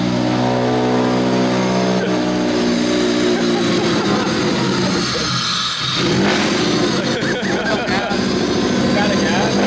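A ruined car engine runs roughly after starting up, a loud, rattly, uneven idle with revving swells that continues throughout, while people talk over it.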